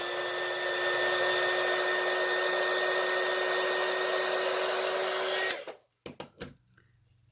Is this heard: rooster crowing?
no